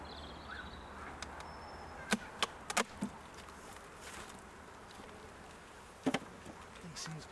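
Honey bees buzzing around hives at an Essex apiary, a faint steady hum with occasional sharp clicks and knocks nearby.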